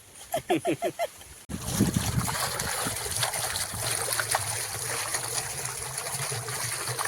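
Steady rushing water pours continuously from a pump outlet, loud and close, after a brief opening of rhythmic knocking; no voices.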